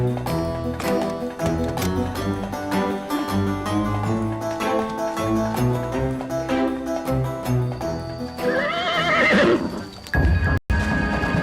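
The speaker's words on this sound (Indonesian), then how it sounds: "Abi ambil kuda dulu." A horse neighs and whinnies repeatedly while its hooves clip-clop in a steady rhythm, loud and close, with music-like tonal layers running underneath and a final sharp whinny near the end.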